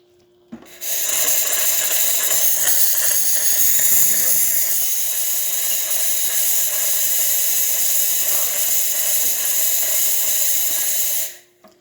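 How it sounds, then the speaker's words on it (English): A serviced DeLonghi espresso machine's steam wand hisses in one loud, steady blast lasting about eleven seconds, starting and stopping abruptly, close up with no talking. "Then we are going to test the steam wand."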